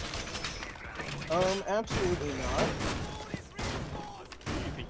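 Bursts of weapon fire in the Rainbow Six Siege video game crackle under near-constant loud, heated talk, with gunshots scattered through the clip rather than standing alone.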